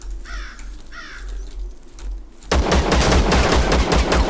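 Shotgun fire in the video game Zero Sievert: after quieter ambience with crow-like caws, a loud, dense barrage of rapid gunshots erupts and continues to the end.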